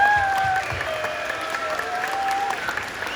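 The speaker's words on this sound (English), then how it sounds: "Please give Adele a huge, big round of applause" An audience applauds at an elementary school's 100th birthday celebration, a sustained wash of clapping from a sizeable crowd, with a few faint whistles rising above it.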